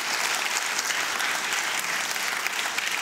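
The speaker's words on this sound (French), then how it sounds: "On applaudit bien fort, s'il vous plaît, François Germinet, président de CY." A university audience at an evening event for CY Cergy Paris Université claps loudly and steadily for the university president, a thick, unbroken wash of applause throughout.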